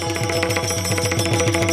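A mridang drum played during a Marathi comedy kirtan, beating a steady, even rhythm of deep thumps over a sustained tonal drone.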